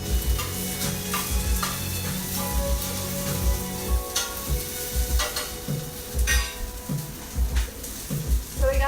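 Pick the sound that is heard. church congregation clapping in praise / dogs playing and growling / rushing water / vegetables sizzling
vegetables sizzling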